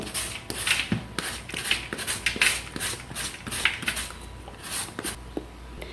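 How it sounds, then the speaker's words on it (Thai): Peeled taro being grated into shreds, a steady run of rasping, scraping strokes close up, repeating rhythmically for several seconds with no talk. "เอาเผือกมาขูดเป็นเส้นๆ"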